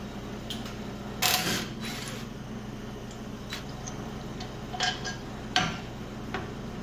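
Metal tools clink and tap sharply a few separate times against quiet background noise while a sway lock system is unbolted near a trackbar bracket.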